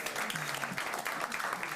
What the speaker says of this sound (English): that'll give us a chance to give you a clap